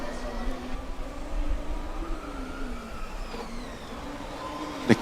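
A Formula Student race car from the Coburg team drives by on the endurance track at a moderate distance, its engine note rising and falling with gear changes, under a commentator's voice, with a sharp burst near the end.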